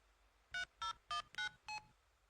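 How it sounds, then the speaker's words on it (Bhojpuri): Five short touch-tone dialing beeps sound from a phone at an even pace. The quiet electronic tones stand alone against near silence. "रवा हमरा के फोन मिला के दी, हम बतियाए"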